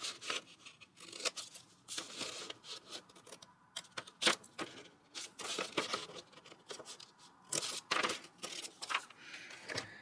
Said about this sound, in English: you can just take a scissors and just remove the excess.